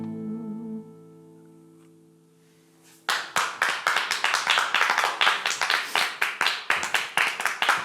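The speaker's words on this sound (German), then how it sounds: "Es hat gut getan, wieder mal Applaus zu hören." A live festival audience breaks into applause after a quiet moment: dense, steady clapping from many hands rises suddenly and continues loudly to the end, with no talk over it.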